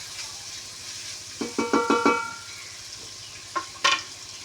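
Ginger and garlic sautéing in a pan for beef curry, with a steady frying sizzle under a short run of five or six rhythmic scraping stirs, then two more sharp spatula clanks near the end.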